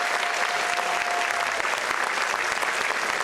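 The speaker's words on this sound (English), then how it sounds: "Give them a quick round of applause" Audience applause at a jazz festival concert for the drummers, a dense, steady wash of clapping from a large crowd that holds for the whole stretch at constant loudness with no voices above it.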